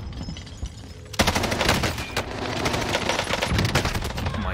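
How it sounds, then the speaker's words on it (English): In Call of Duty Vanguard Warzone on Rebirth Island, rapid automatic gunfire breaks out suddenly after a quieter opening. It carries on as dense, loud bursts of shots until the end. "This guy shooting me through all the way through that window"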